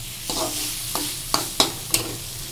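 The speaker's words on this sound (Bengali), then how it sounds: "ডিমও আমি ছেড়ে দিলাম। এটা আবার একটু কষাবো।" Eggs stir-fried in a spiced masala with cinnamon and cloves, a steady close sizzle broken by five sharp scraping stirs of the spatula against the pan, the last three coming in quick succession.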